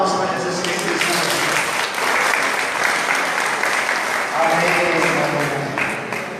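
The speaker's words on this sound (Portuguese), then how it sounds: "E eu queria que vocês agora dessem uma salva de palmas para Jesus Cristo." A church congregation gives a sustained, dense round of applause that stays steady and full for several seconds, with many hands clapping together and a few faint voices mixed in.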